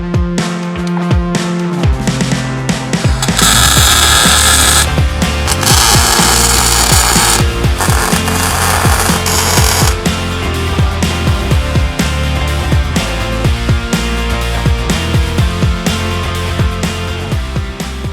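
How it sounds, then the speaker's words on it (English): Tack welding a link bracket onto a truck frame for a custom four-link suspension: a loud, dense, continuous crackling buzz that fills the whole stretch with no pauses and no talk. "We're going to weld the link bracket to the frame. Actually, we're just going to tack it for now"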